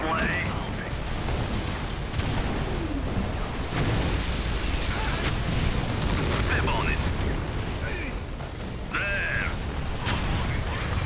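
V2 rocket strikes and battle noise from the strategy game Red Alert 3: rumbling blasts and mechanical clatter blend into a dense, continuous din, with a voice talking over it at times.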